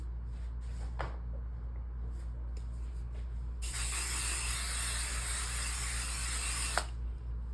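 Spray adhesive hisses in one steady, close burst of about three seconds while an embroidery hoop and stabilizer are readied for a repositioning hoop, set against a quiet room hum.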